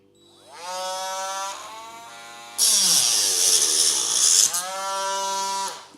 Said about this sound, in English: Get the old Dremel.